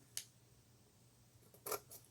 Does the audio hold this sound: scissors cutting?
yes